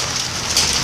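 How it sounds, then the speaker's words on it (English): Heavy rain mixed with hail pours down in a dense, steady roar, loud and close, with no talk over it. "It is raining"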